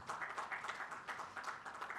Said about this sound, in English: A round of applause for all of them, please.